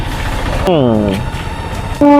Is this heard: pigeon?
no